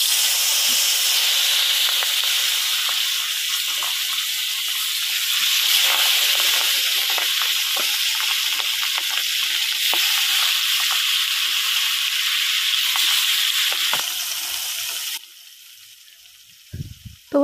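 Fish rubbed with salt, turmeric and oil fries over an outdoor stove, giving a steady, loud, hissing sizzle that holds for about fifteen seconds before dropping away to quieter background sounds.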